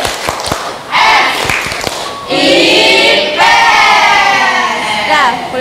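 A school class performs the Tepuk IPS clapping chant, with several sharp claps at first, then loud shouted unison chanting from many children, close and energetic.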